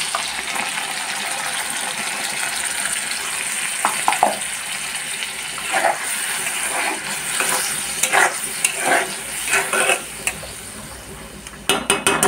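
Onion paste and tomato paste sizzle and fry in a pan that has just been used to fry fish. A steady hiss runs throughout, with intermittent scraping stirs that grow louder near the end.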